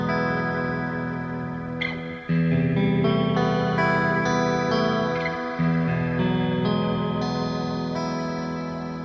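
Electric guitar chord played through an effects rig with chorus, digital reverb and an RC-20 looper, ringing in a sustained ambient wash; it is struck twice and swells loudly, then slowly fades with shimmering tails, with no talking.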